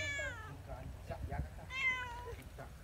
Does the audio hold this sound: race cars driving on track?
no